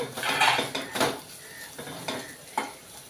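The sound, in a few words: ivy gourd and peanuts being fried and stirred in pan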